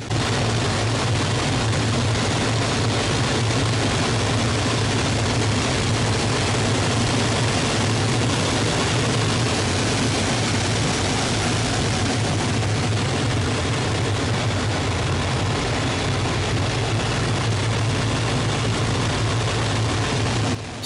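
Hawker Hurricane piston engine drone heard from the cockpit during aerobatic rolls, a loud steady low roar with broadband wind rush that holds constant throughout, with no talk.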